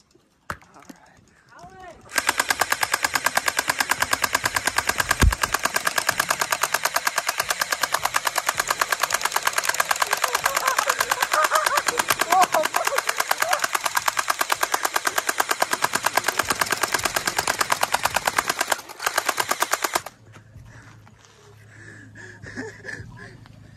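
Orbeez gel blaster guns fire in a long, dense, rapid-fire burst lasting about eighteen seconds, loud and continuous, with voices around the edges before and after.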